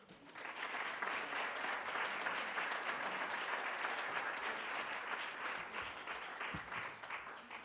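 An audience claps steadily as a speaker is welcomed to the podium at a civic event, sustained applause that swells quickly, holds evenly for several seconds and thins slightly toward the end.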